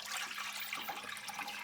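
About half a can of water is poured into a cooking pot of tomato sauce, a brief, soft splashing and trickling heard alone and fairly quietly.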